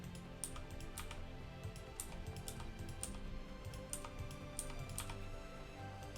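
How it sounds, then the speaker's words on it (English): Fingers type on a computer keyboard in quick, irregular bursts of crisp key clicks and taps, close and fairly quiet, with no voices. "while I'm typing this in"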